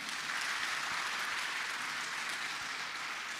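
Steady applause from a debate audience at a comedy pattimandram, a dense, even clapping that carries on through the whole stretch with no voices.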